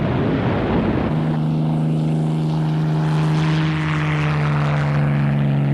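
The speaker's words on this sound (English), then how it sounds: "RAF fighters and bombers were sent from Gibraltar to provide extra cover to the landings" Propeller aircraft engines drone loudly and continuously, with a steady low tone settling in as RAF fighters and bombers pass overhead near Gibraltar during the North Africa landings.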